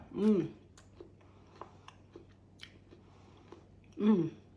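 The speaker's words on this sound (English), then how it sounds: "so let's try one of these fried green tomatoes. Just gonna cut a little piece off of one. They're nice and crunchy." Faint, close chewing of a crunchy fried green tomato, with soft crunchy clicks spread throughout, framed by two short voiced sounds, one at the start and one near the end.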